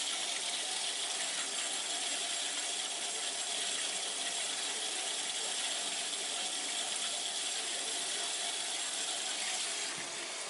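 Air and water rush through the pipes of a hydronic heating system during purging, a steady hiss and gurgling flow throughout, fairly faint and with no talk.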